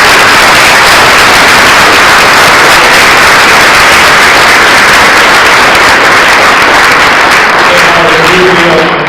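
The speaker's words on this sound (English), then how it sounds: "So if you guys could give a giant round of applause" A large audience gives a long, giant round of applause at a youth awards closing ceremony, a thick, constant roar of clapping that stays loud and unbroken, with faint voices and cheers surfacing near the end.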